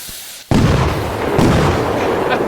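Fireworks launching in the PC game Fireworks Mania: a sudden loud bang followed by a sustained roaring, crackling rush of rockets taking off, with a second surge midway, close and dense with no talk.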